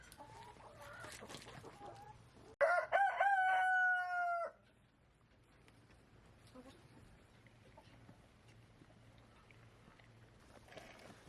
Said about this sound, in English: Lots of chickens. And the rooster.